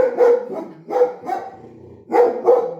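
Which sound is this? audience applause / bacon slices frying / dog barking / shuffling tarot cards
dog barking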